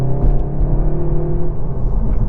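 A Seat Leon Cupra 290 with an electronic limited-slip differential pulls hard out of a corner, its engine a steady loud rumble and whir heard from inside the car, with no voices.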